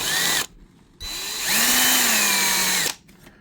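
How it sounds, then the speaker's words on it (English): A power drill whirs in close, loud bursts, spinning up and winding down with short pauses between runs. "having a drill, it's noisy on the video"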